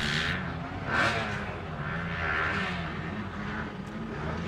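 KTM and other motocross bikes roar in a women's WMX race at Little Silver, engines droning steadily with rising and falling revs as riders approach a tight hairpin.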